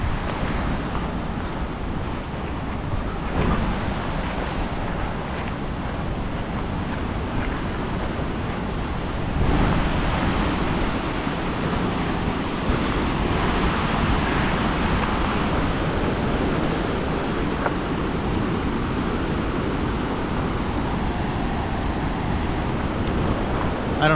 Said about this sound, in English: I hear the falls, but I can't see them.